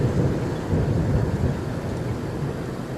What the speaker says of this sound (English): just heard a big rumble of thunder